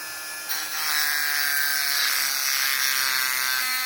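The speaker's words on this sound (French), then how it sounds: "Il faut la couper. Malheureusement, j'ai pas de meuleuse, donc on va y aller avec le mini-outil." A rotary mini-tool cuts through the chain of a 1965 Mobylette moped, giving a steady high-pitched grinding whir that rises as the bit bites into the metal and then holds constant, heard close up.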